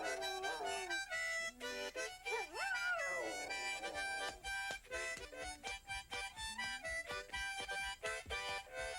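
A dog howls and whimpers in long, wavering glides against a steady backdrop of someone playing music for her cats and dogs, the howl rising loudest near the middle of the stretch.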